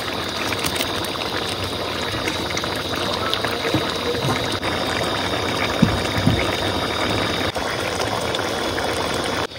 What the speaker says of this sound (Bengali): তরকারিতে ফুট উঠে গেছে